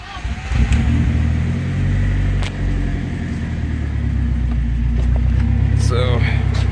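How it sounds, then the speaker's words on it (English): A BMW E30 with an M42 engine idles while jacked up, its loud exhaust giving off a close, continuous throbbing rumble with a brief dip. A person talks over the engine. "This is a little bit loud, and I'm gonna start it up so you guys can hear it"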